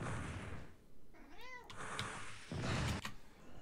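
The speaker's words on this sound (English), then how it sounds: "Boo Kitty's telling me I need to go to bed" A pet cat meows once with a short, curved cry, faint and close under steady background game noise and occasional thuds.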